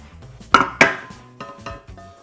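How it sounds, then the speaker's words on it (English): A metal cake pan with a chocolate walnut torte is turned over onto a large cake plate, giving two sharp clanks close together, then a few softer knocks and settling sounds. "I'm gonna put it over top my pan and flip."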